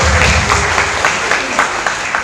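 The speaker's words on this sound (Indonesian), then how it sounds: "tepuk tangan dong untuk Kak Rizal" An audience at an Islamic fair talk show claps steadily for a speaker, a dense, even wash of applause that holds at the same loudness from start to finish.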